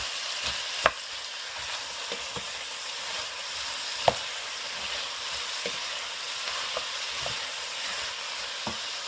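Onions frying in butter in a pan, a steady hissing sizzle broken by sharp spoon taps and scrapes against the pan as they are stirred, close and continuous with no talking.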